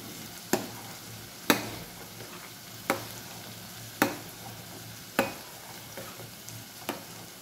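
A spoon stirs paneer matar masala in a pan after garam masala and kasuri methi go in, giving six or seven sharp, evenly spaced scraping knocks over a faint steady hiss.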